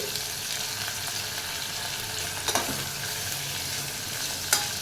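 Paneer pieces fry in a pan under an even, continuous sizzle, broken by a couple of faint scraping clicks as they are stirred.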